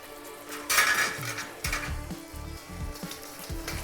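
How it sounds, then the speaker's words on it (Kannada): Finely chopped tomatoes hit a pan of fried onion, ginger and green chillies, giving a soft steady sizzle with a few sharp metallic clinks and scrapes of a spoon stirring against the pan. "ಟೊಮೆಟೊನು ಸ್ವಲ್ಪ ಚೆನ್ನಾಗಿ ಫ್ರೈ ಮಾಡ್ಕೊಂಬಿಡೋಣ"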